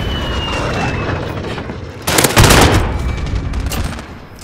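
Gunfire in the Call of Duty Modern Warfare 2019 video game, loud sustained rumbling battle noise with a burst of heavier shots and blasts midway, no voices.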